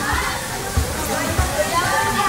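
Cold stream water from the Sierra Madre rushes continuously at a riverside café, a broad close splashing wash with low thumps, while voices and children chatter in the background.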